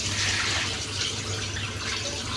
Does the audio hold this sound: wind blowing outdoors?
no